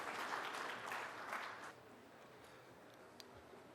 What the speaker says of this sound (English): I request you to applaud as we invite our international speaker onto the